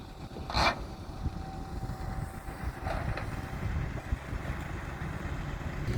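An Isuzu Deca truck with a six-cylinder engine and a semi-agricultural cargo bed runs with a steady, loud, continuous rumble and drone, without any voices.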